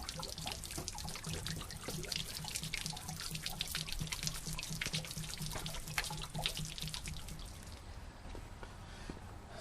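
Water drains out of a travel trailer's hot water tank, a steady trickle and splash with rapid drips running on throughout, quiet and close, easing off slightly near the end.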